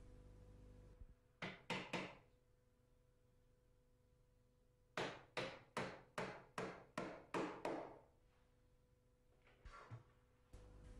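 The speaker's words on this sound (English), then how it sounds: "Fix this with pins to the joists." Hammer blows driving pins to fix packing timber to floor joists, a quick group of three sharp knocks, then a steady run of about nine, then a couple of scattered taps, all close and fairly faint.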